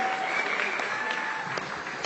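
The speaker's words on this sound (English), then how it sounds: "Let's give him a huge round of applause." A seminar crowd applauds as a couple is called up on stage, producing a steady wash of clapping with some faint tonal sounds beneath it.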